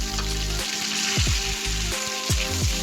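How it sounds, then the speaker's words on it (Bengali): Potato and pointed gourd fry in hot oil with onion and tomato, a steady close sizzle with repeated stirring scrapes over a low background hum. "আমি এটাকে ভালো করে ভাজবো"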